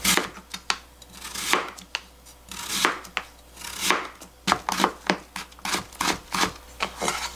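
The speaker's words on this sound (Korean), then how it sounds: "채를 썰어주시고요" A knife slices vegetables into thin julienne strips on a cutting board for a Korean mugwort soybean paste soup, heard as a quick, steady run of close crisp chops and scraping strokes with no talk.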